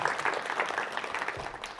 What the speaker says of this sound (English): Give the Canadian a big round of applause.